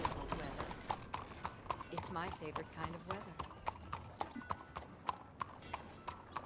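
Horse hooves clip-clop steadily in Red Dead Redemption 2, with sharp regular hoof strikes close by and a voice talking over them.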